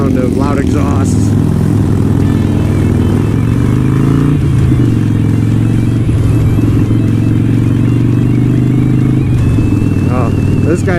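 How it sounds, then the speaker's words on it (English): Loud motorcycle exhausts, including a Harley, rumble steadily and close throughout, a deep continuous engine drone with voices talking over it. "The harmonious sound of loud exhausts."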